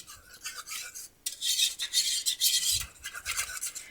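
A whisk scrapes and rasps briskly against a bowl, mixing garlic powder, salt, pepper, onion powder and paprika in short bursts with a brief pause, close and fairly quiet.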